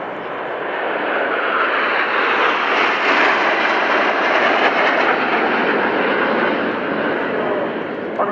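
Frecce Tricolori Aermacchi jet climbing at the Royal International Air Tattoo airshow, a sustained loud jet roar that swells and holds, with a commentator talking over it.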